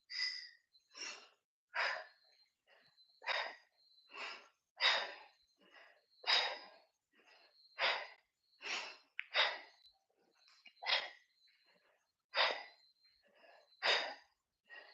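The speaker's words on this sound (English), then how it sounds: "make sure you can hear your breathing" During a kickboxing workout, a person breathes hard in a steady rhythm, with about a dozen sharp, loud exhalations spaced roughly a second apart and short gaps of quiet between them.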